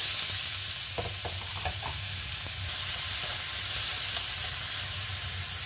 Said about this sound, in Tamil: அது கூட நறுக்கி வச்சுருக்க வெங்காயத்தை சேர்த்துக்கலாம்.